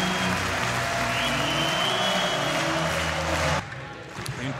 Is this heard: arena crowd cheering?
yes